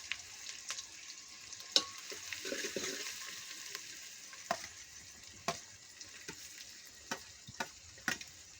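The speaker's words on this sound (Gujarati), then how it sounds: "પહેલા હવે જિગ્નેશભાઈ ડુંગળી નાખી રહ્યા છે" Chopped onions frying in a pan of hot oil, a faint steady sizzle with scattered small ticks and pops, heard close and alone.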